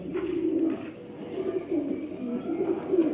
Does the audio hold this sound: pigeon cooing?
yes